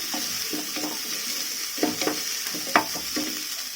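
Green chillies frying for a bachelor-style biryani, a soft steady sizzle in hot oil with a few clinks of stirring, close and alone.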